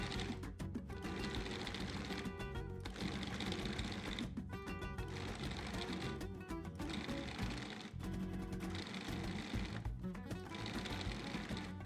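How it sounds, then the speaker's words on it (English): Food processor blade pulsing ground pork with spice mix and sage in repeated short bursts, each whirring run broken by brief pauses, moderately quiet with no voices. "Combine the pork, spice mix, and sage in the bowl of your food processor fitted with the blade."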